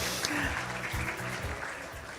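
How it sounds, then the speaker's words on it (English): An audience at a cultural exchange gala applauds a speaker. The clapping is dense and fairly steady, with a voice and some music running underneath it. "Clap your hands to Attorney Badwell."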